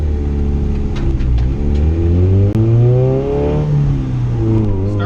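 A high-boost turbocharged Honda Civic GSR on a street pull, its engine roaring loudly as revs climb steadily through the gears, with a brief dip at a shift before pulling hard again.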